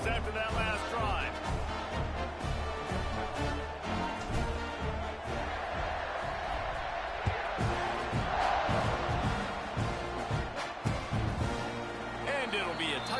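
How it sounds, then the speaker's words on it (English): Football stadium crowd roaring steadily after a touchdown by Missouri's opponent, a loud, dense wall of cheering that persists throughout with a commentator talking over it. "this crowd is feeling themselves after that last drive"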